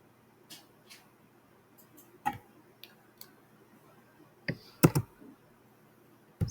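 Keys tapped on a computer keyboard in a quiet room while a formula is entered in a spreadsheet, a few sparse close clicks ending with a firmer press, with no talking.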